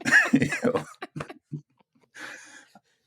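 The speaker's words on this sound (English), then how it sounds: "I gotta clear my throat still" A person clears their throat with rough, raspy bursts, followed by a short breathy exhale.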